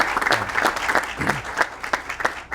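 Audience at a community center press conference clapping, a sparse, uneven patter of individual hands with distinct claps rather than a dense roar, fairly close.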